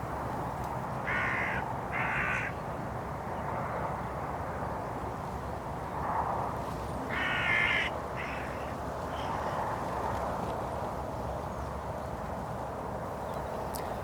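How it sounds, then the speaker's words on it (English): Hooded crows caw in short harsh bursts near a bait spot, a couple of calls near the start and more around the middle, over a steady outdoor rushing background. "We've got a pair of hooded crows as well as the magpie down at the bait spot now."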